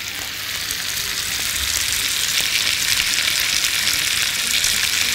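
Garlic frying in a hot pan, a dense, steady, loud sizzle throughout with no voices.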